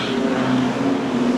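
Stock cars racing on a track in a New Zealand stockcar teams championship at Huntly, a loud continuous engine drone with a steady humming tone, crowded and sustained, no voices.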